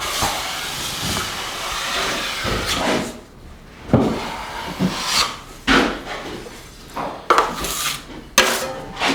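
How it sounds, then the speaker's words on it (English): A 14-inch drywall trowel drawn along an inside wall corner, spreading joint compound in short scraping, hissing strokes, close and fairly loud, with brief pauses between passes. "I just take my 14-inch trowel and go right along the edge of the corner."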